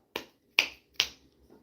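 Three crisp finger snaps ring out up close, evenly spaced about half a second apart, each sharp and isolated in an otherwise quiet room.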